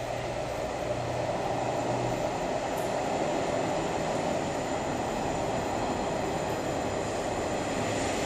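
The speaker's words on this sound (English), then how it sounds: "We've got a Great Western Railway service coming in" A four-coach Great Western Railway passenger train pulls in at Teignmouth with a steady, close, broadband rumble of wheels and engine that stays loud throughout, with no voices.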